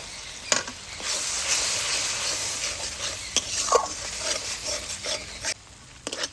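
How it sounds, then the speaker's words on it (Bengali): Tomato paste sizzles in hot oil as potol posto masala is stirred and sautéed with a little water in a pan, a steady close frying hiss broken by a few sharp spatula scrapes and clicks. "দিয়ে দিচ্ছি টমেটো বাটা একদম সামান্য অল্প একটু জল দিয়ে সব কিছু ভালোভাবে কষিয়ে নেব"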